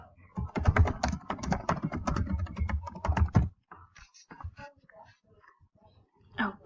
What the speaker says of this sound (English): Oh, darn it, I messed up on my typing.